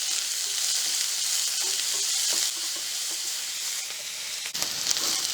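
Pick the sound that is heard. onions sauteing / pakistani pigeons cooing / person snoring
onions sauteing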